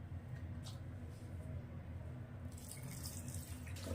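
Water poured into a cooking bowl in a home kitchen, a steady faint stream with a low continuous hum throughout and a slight splashy change partway through, with no talking.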